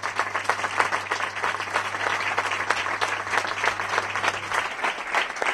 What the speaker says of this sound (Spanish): Y os pido un aplauso para él, por favor